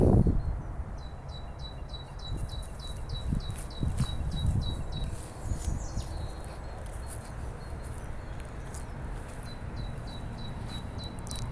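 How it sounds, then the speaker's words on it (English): A tit gives a rapid series of high, thin ticking calls, repeated in runs, over faint outdoor background noise. "can you hear that bird? Tick, tick, tick, tick, tick, tick, tick, tick, tick. That's a tit."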